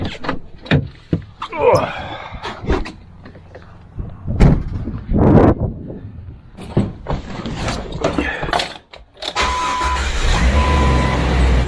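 A no-lift Jeep Wrangler TJ on narrow offroad tires gives close door clunks and handling noises amid brief voices, then the engine starts and runs steadily near for the last couple of seconds.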